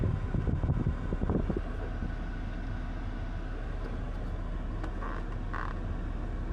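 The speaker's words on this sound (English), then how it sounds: "Aircon on full blast." A room air conditioner running on full blast at a campsite in Kruger National Park, giving a steady broadband hum and whoosh throughout, with a few brief knocks near the start and no voices.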